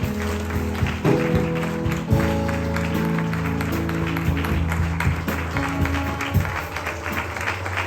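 A church congregation applauding and acclaiming Jesus. Sustained clapping runs throughout beneath an organ or keyboard holding chords, and voices cheer and call out.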